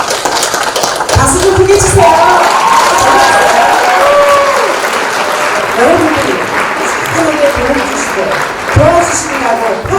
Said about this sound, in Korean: 다 같이 박수 한번 주세요.